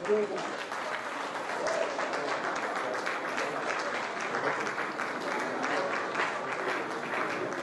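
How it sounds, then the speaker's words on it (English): Sustained audience applause at a university launch ceremony for a fisheries and aquaculture degree program in Liberia, steady dense clapping filling the room with some voices mixed in throughout. "Can you please big round of applause?"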